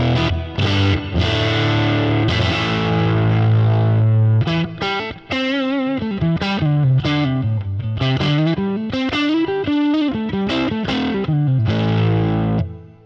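Fender Stratocaster electric guitar played through a Vibrochamp tube amp with its built-in reverb, loud overdriven chords and bending single-note lines with compressed, sagging tone and a reverb tail, playing continuously alone.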